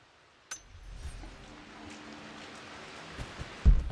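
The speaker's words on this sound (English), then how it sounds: "Of course it's raining." Rain falling in the video game Rise of the Tomb Raider, a soft steady hiss with scattered drops and a few clinks, fairly faint throughout, with a louder knock near the end.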